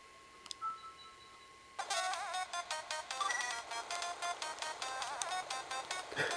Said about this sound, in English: Damn you, sound glitch.